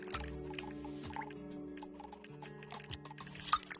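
Water dripping inside the Nutty Putty cave in a VR exploration game: small, quiet liquid drips scattered over a steady, humming tonal drone.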